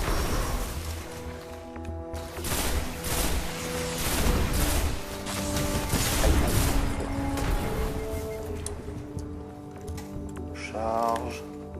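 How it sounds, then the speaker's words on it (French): Burst gunfire from a weapon in the video game Destiny 2, repeated sharp shot bursts and booms amid game sound effects, with someone talking over much of it. "je tire en rafale"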